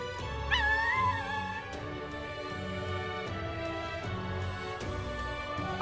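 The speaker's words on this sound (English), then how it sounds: "I'm pretty sure I heard a puppy." Puppy whimpering in the video game Metaphor: ReFantazio: a few high, wavering whines and yips over a soft ambient music bed, close and clear.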